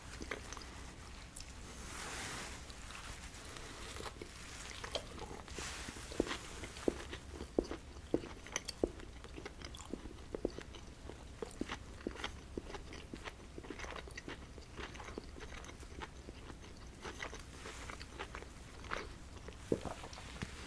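Crunchy breading on a Popeyes glazed pickle fried chicken sandwich being bitten and chewed close to the mic, with repeated soft crunches and sharp clicks spread steadily across the clip, with no talking.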